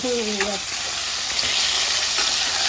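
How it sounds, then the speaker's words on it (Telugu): Food sputters and sizzles loudly in hot oil in a home kitchen pan, the wet ingredients making a continuous crackling fry, with a brief voice at the very start. "నూనె పోసి అందులో అయితే వేసాము అందులో వాటర్ ఉన్నాయి అందుకే బుసబుస అని అంటున్నాయి"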